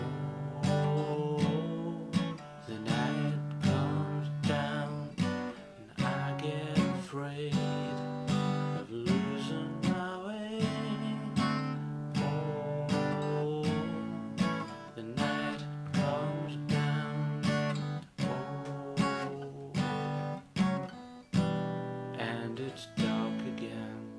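Guitar strumming the chorus chords, played steadily and continuously with a full, sustained sound, close and alone with no talking.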